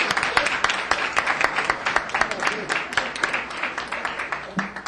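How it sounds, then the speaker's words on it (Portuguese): Members of a legislative committee meeting give warm applause, a modest room of hands clapping steadily with distinct individual claps audible throughout and no voices over it. "a quem eu peço uma calorosa salva de palmas"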